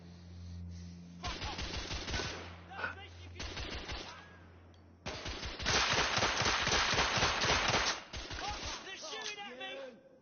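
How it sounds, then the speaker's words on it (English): Enemies shooting at the player in a video game, rapid bursts of automatic gunfire in several loud stretches, with voices shouting between and over the volleys. "They're shooting at me!"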